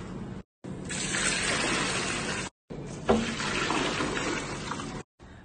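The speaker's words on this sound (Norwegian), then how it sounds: "så heller vi oppi vann for å bare se at den er tett." Water pours steadily into a slush machine being checked for leaks, a close, full rushing splash broken by two brief pauses, with no talk.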